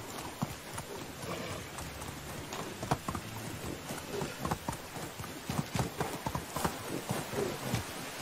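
Steady clopping of horse hooves at a trot in the video game Medieval Dynasty, close and continuous, with a faint pattering background and no talking.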